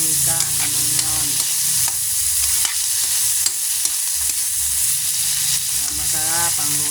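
Tomato and ginger sauté in leftover oil from fried fish, sizzling steadily and close, with spatula stirring and scraping against the pan throughout.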